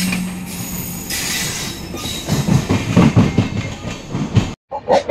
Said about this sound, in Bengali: আমাদের ট্রেনটাকে দাঁড় করিয়ে নিউ দিল্লি ঢোকার আগে ওই ট্রেনকে পাস করতে হচ্ছে।